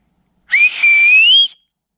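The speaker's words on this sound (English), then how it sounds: "I'm gonna see how loud of a whistle I can do." A loud, close human whistle blown outdoors at a waterfall: one sustained shrill tone of about a second, rising then holding steady, with a brief bright overtone and no echo afterward.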